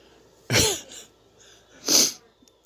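Two explosive sneezes, the first loud and sharp with a short trailing breath, the second a moment later and similar, close and alone with no talking.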